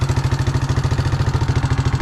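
A Yamaha Moto-4 ATV engine idles with the choke pulled almost all the way out, a steady, close, rhythmic low putter with fast regular pulses and light mechanical clatter, running evenly throughout with no talk.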